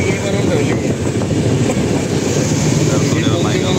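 Interior of a moving passenger train, a steady loud rumble of wheels and carriage noise with faint rhythmic clatter running throughout, close and continuous.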